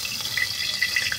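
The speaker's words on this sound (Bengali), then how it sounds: "এই যে আমি তেল দিয়ে নিলাম।" Cooking oil poured into a pan, a brief close liquid stream with a soft gurgling splash.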